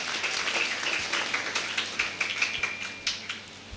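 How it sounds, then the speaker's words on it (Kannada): An audience applauds at the opening ceremony of a new academic year at a women's pre-university college in Kumbra, giving a steady, crackling burst of clapping at moderate volume with sharper claps scattered through it. "ನನ್ನ ಪ್ರೀತಿಯ ಒಂದು ಜೋರು ಚಪ್ಪಾಳೆ ಕೊಡಿ."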